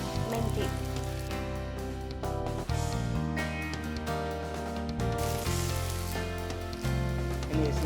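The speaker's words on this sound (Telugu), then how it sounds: "నేను వేసిన onion, ginger garlic paste, green chilli మంచిగా ఫ్రై అయిపోయింది మేడం" Onion, ginger garlic paste and green chilli frying in a pan for methi chicken, a steady crackling sizzle that runs under loud background music throughout.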